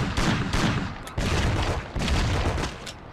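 Loud, dense video game gunfire from a shootout in the Mafia game, with bursts of rapid shots running almost continuously across the clip and brief dips between volleys.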